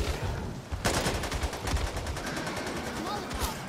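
Automatic gunfire in the co-op zombie shooter Back 4 Blood, rattling out as rapid, sustained bursts of shots at steady loudness across the whole stretch.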